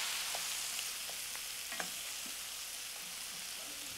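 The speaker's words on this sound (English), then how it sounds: "And then in with all these tomatoes. And a little rosemary." Tomatoes and a little rosemary tossed into a hot frying pan, a steady soft sizzle with a few faint stirring clicks, close but quiet, no talking.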